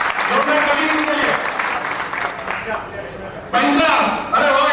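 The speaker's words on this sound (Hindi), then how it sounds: "जोरदार ताली के लिए" Loud audience clapping fills a hall at a live event with Dr Jayesh Patel, steady and dense throughout, with a voice speaking over it and a sharper burst of clapping near the end.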